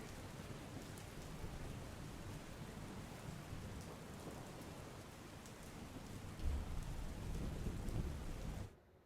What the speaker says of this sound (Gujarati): આખા ગુજરાતમાં સાર્વત્રિક વરસાદ વરસી રહ્યો છે